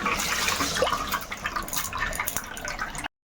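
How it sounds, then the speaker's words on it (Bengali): Rice being rinsed in water in a home kitchen, with a continuous close splashing and sloshing wash of water that carries steadily throughout. "চালটা একটু ধুয়ে নিলাম"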